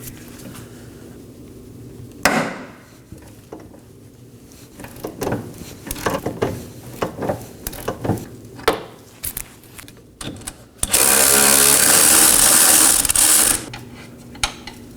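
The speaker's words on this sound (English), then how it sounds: "We'll be putting a ratchet on the nut side and holding the bolt side with a wrench" A ratchet breaks free an 18mm control arm nut on a 2018-2024 Chevrolet Equinox rear knuckle while a wrench holds the bolt, giving close metallic clicks and clunks in uneven bursts, then a loud sustained ratcheting whir for about three seconds.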